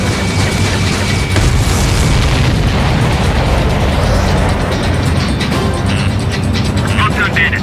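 Missile blasts and dense combat noise from the jet fighter game Ace Combat 7 roar loudly and continuously, a thick wash of booms, engine rumble and bursts with no quiet gaps, under faint radio chatter.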